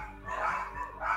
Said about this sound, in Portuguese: O cão não se cala.